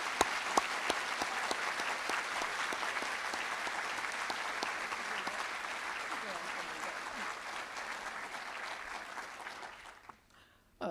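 Audience applause welcoming Dr. Nolan to the podium at a veterinary school white coat ceremony: a dense, steady wash of many hands clapping that holds for about ten seconds, then fades out abruptly.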